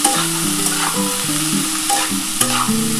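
Bitter gourd sliced and frying in oil in a pan with salt and turmeric, a steady close sizzle broken by repeated scraping stirs of a spatula against the pan, with no voices.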